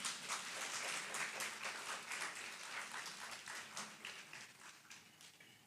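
Audience applause in a university seminar hall at a welcome event for new members, steady crowded clapping heard from a distance at low level, slowly thinning out toward the end.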